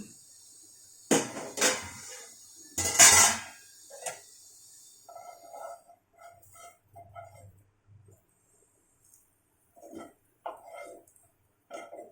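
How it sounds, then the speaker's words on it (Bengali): A lid lifted off a cooking pot of Morla fish paturi wrapped in pumpkin leaves, giving a few sharp metallic clanks and scrapes near the mic, followed by quieter intermittent clinks and kitchen sounds. "ঢাকাটা খুললাম।"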